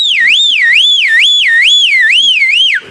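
A human voice imitates a jeep's car alarm with a loud, wavering whistle-like siren that rises and falls in about six even cycles, close and unbroken, then cuts off abruptly.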